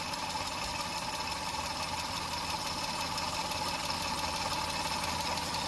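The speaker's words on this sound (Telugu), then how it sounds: "ఇంజన్ సౌండ్ అయితే మీరు వినొచ్చు." A 2016 Maruti Suzuki Alto LXi petrol engine idles steadily nearby, a continuous, even hum with no clear revs or pauses.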